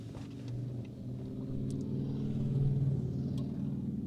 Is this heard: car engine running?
yes